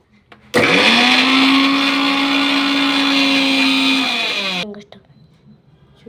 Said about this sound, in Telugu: అన్నీ మనం ఇంట్లో వేసేసుకుందాము మిక్సీలో